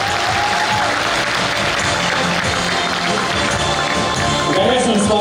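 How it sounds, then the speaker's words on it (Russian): An audience at a sports tournament in Krasnogorsk applauds continuously, a loud, dense wash of clapping filling the whole stretch with crowd noise underneath. "ваши аплодисменты"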